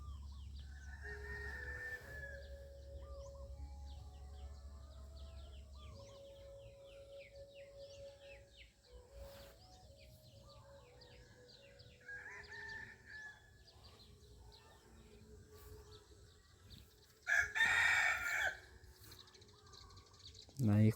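Morning yard with laying hens and a rooster: drawn-out crowing and scattered clucks at a moderate distance, with people talking quietly in between and a louder burst near the end.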